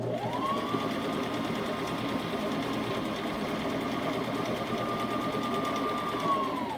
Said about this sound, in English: I'm going to go in again so that I'm just curving in and stretching this elastic as I sew over it.